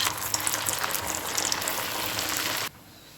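Sabudana vada frying in hot oil, a dense, steady crackling sizzle close up that cuts off abruptly near the end, with no talking.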